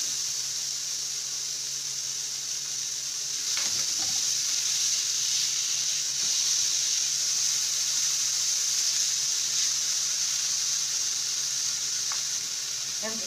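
Steady sizzling of colored bell peppers frying in a hot pan, with a few clinks and stirring sounds partway through.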